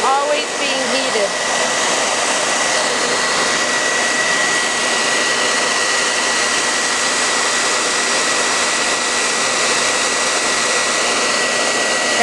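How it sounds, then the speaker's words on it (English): A blow dryer or embossing gun blows hot air steadily on a tumbler while heat transfer vinyl is applied, a loud continuous whooshing roar that holds evenly throughout, with a brief faint voice near the start. "I'm always keeping hot air blowing on this tumbler"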